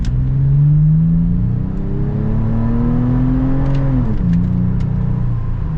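A 2022 Toyota 4Runner TRD Pro Outback Edition accelerates with a loud, steady engine drone that climbs in pitch. Around the four-second mark it drops as the gear shifts, then pulls on, heard from inside the vehicle without talk.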